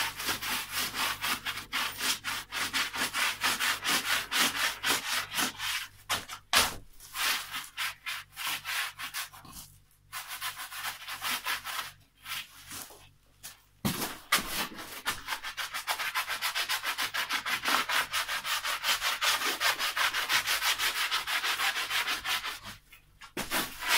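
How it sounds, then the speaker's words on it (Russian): A dry rag rubs hard across a freshly laid brick wall, cleaning off mortar in long steady scrubbing strokes, near and continuous with a few brief pauses. "берем сухую тряпку и начинаем тереть"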